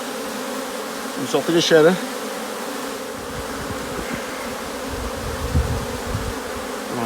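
Honey bees buzz around hives in Garrigue scrubland, a steady insect hum throughout with a brief louder burst near the start as a bee passes close; someone speaks briefly over it.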